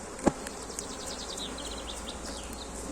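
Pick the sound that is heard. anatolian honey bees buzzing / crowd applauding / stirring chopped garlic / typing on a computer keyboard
anatolian honey bees buzzing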